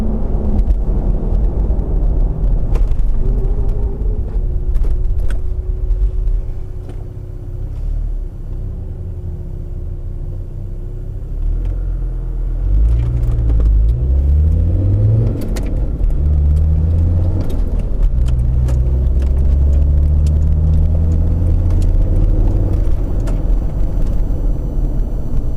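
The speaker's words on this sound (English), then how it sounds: "There's always a lot of traffic around here" Road traffic rolls past on a busy Saturday street near a KFC, with loud engine rumble and cars passing one after another, several low sweeping drive-bys and a brief air-brake hiss.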